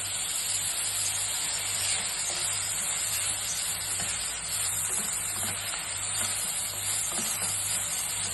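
Steady, close sizzling and crackling of ginger-garlic paste frying in a hot pan, continuous throughout with faint stirring, no voices.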